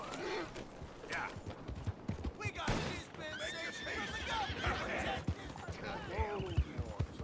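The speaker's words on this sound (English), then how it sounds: "we spook the horse with the cart" Horse whinnies from a horse spooked while pulling a cart in Red Dead Redemption 2 ring out amid clattering hooves and scuffling noise, with a voice talking over parts of it.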